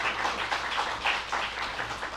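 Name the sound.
audience applause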